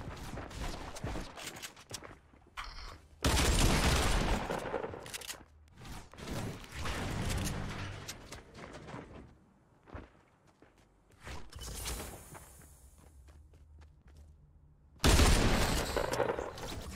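Gunfire from a player's weapon in Fortnite Battle Royale, with bursts of loud shots and scattered thumps and footsteps, some shots close and heavy, others lighter and more distant, with no talk.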